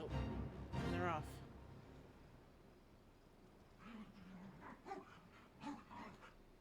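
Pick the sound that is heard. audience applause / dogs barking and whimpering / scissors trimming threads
dogs barking and whimpering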